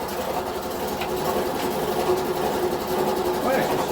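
A workshop air compressor runs steadily nearby, a rapid, rhythmic mechanical chugging that stays at an even level, with some talk over it.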